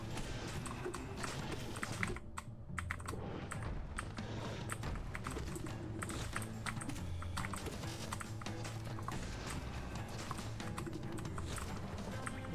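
Computer keyboard keys pressed rapidly and continuously during a Hollow Knight game session, a dense stream of clicks and taps under game sounds, close and fairly quiet.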